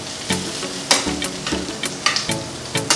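Onions sizzle in a pan for Filipino garlic fried rice (sinangag), a loud close hiss broken by several sharp spatula scrapes and knocks against the pan.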